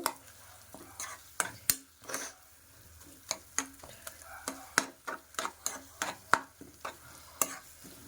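Colocasia paste is worked around a pan with sharp, irregular clacks and scrapes of a spoon against metal, a quick uneven rhythm over a faint sizzle, close and clear.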